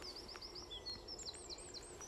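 A young owl outdoors beside a hedge gives a run of thin, high, repeated calls at a steady pace, faint against a constant background hiss.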